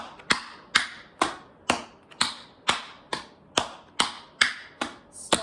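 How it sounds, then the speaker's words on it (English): Tap dance roll-offs ring out as sharp, crisp taps in a steady, evenly spaced rhythm, about a dozen clear strikes each followed by a short decay, close and with no talking. "So you're going to start off with 3 roll-offs."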